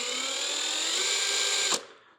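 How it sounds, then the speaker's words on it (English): A 1/16-inch bit drills through sheet metal with a steady high whine for almost two seconds, then cuts off abruptly with a brief clunk as the tool stops and the sound fades. "Again, we're marking with a 1/16 drill bit"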